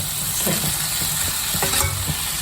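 Ivy gourd curry sautéing in a pan with a little oil, giving a steady close sizzle with soft scraping stirs throughout and a few louder spoon scrapes, no voices.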